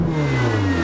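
A Ferrari 488 GTB with a titanium exhaust revs near 3,500 RPM, giving a close, loud, sustained engine tone with a steady pitch and no talk.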